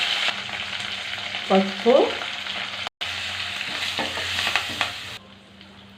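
Tempering spices, cumin, garlic, dried red chillies and curry leaves, frying with onions and green chillies in a pan, a steady sizzle with a few stirring scrapes and brief soft clatters, heard close without talk.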